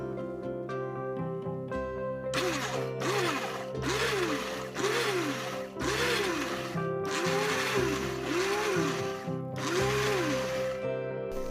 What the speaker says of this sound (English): now I'm going to blend the whole thing together